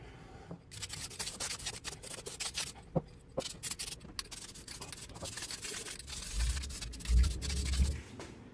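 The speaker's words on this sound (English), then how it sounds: "So I'm going to throw a little paint down on it." Paint being brushed onto a minitruck floor: repeated scratchy brushing and rubbing strokes on a hard surface, close and irregular, with a low thud or rumble near the end.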